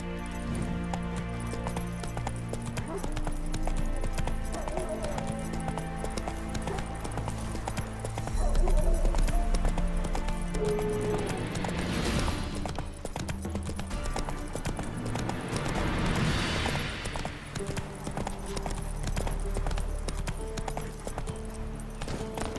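A horse gallops in The Witcher 3 video game, its rhythmic hoofbeats steady and prominent throughout, layered over an orchestral music score.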